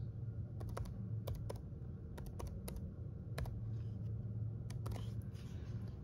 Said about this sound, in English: once you start typing in your email address